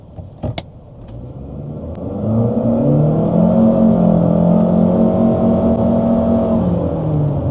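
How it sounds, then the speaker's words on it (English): An Omoda C5 1.5-litre turbo engine with CVT revs up and accelerates with a steady, rising whine and droning hum, loud and close, following a few brief clicks. "The motor noise is quite a bit due to the CVT transmission, but it's not annoying."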